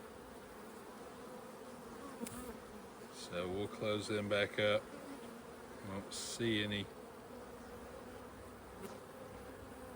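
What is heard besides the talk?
honey bees buzzing around open hive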